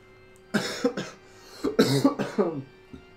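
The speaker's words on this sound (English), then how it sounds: "Sorry about the cough." A couple of harsh, throaty coughs in quick bursts, close up, followed by a brief pause and a faint final catch of breath.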